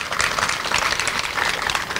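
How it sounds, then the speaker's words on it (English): Crowd applause for community services, police and fire departments at an outdoor park groundbreaking ceremony in Naples, Florida: a dense, steady wash of clapping that holds at an even level for about two seconds, with no voices over it. "let's give them one round of applause as well"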